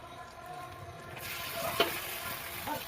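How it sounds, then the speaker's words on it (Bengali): Meat with onions fried until reddish-brown, stirred in a pan with a ladle: a steady close sizzle with scraping and clinks of the ladle against the pan, growing louder partway through, no one speaking. "হাতা দিয়ে মাংস উঠিয়ে দিচ্ছি"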